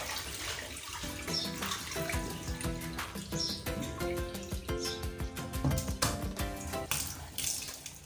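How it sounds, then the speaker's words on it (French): Rice being rinsed by hand in a bowl of water, with continuous sloshing and swishing plus small splashes and trickles, close and fairly steady in level. "mélanger et répéter l'opération 2 à 3 fois. Il faut que l'eau de rinçage devienne vraiment claire."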